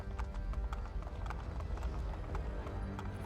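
Horse hooves clip-clop in a steady, close rhythm in Assassin's Creed Brotherhood, loud and continuous with faint game ambience behind them and no speech.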